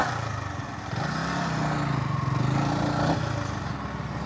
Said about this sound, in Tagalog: Karon ako nang isod akong motor niya